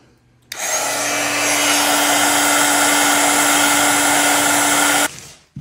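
A torch heats a resin bowl that is being shaped, giving a loud, steady roaring hiss with a faint tonal hum. The roar lasts about four and a half seconds close up, then cuts off abruptly, with no talking.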